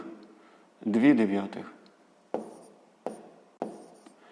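Numbers for a decimal division are written out in a sixth-grade maths lesson: a brief voice, then three short, sharp writing strokes spaced apart in a quiet room.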